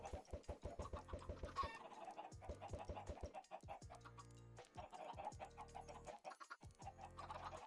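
Chickens in a Minecraft-style superflat world cluck over and over in a crowded pen, a busy overlapping chatter of short, close clucks that keeps going without any talk.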